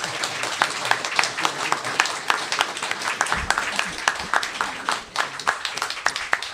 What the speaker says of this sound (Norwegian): En applaus for Jan Ove.